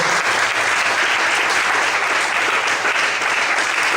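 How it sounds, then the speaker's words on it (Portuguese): A church congregation applauds loudly in praise during a worship service, a dense and continuous wall of clapping that holds steady for the full four seconds with no voices on top. "Você pode aplaudir bem forte ao Senhor."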